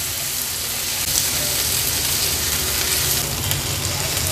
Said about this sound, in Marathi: कांदा तेलावर छान आपल्याला परतून घ्यायचा आहे।